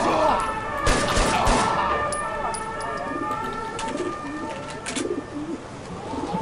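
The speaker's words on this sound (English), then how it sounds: "These pigeons are fearless." Pigeons coo in the video game Shadow Ops: Red Mercury, soft repeated calls close by, with sharp bursts of gunfire cutting in early and again near the end.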